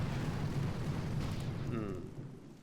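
Artillery barrages explode in the Boom Beach mobile strategy game, a dense, continuous rumbling roar of booms that stays loud and steady, then tapers off near the end.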